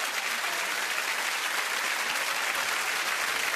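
Studio audience applause on a television home-guessing show, steady dense clapping throughout at moderate loudness with no talk over it.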